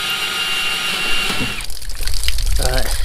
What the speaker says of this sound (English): just draining some of the water out of the tank